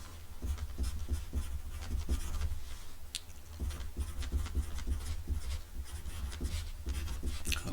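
Pen or pencil scratching across paper while maths working for an integration problem is written out by hand, a steady close scraping with short strokes and pauses, no talking.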